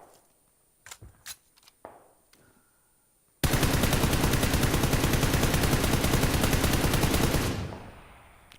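A rifle fitted with a compensator muzzle attachment fires after a few scattered clicks and handling knocks. A loud, close, sustained rapid-fire burst lasts about four seconds, then cuts off into a fading echo.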